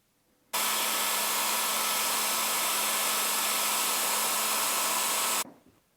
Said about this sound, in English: I've dried that with a hairdryer, just for speed really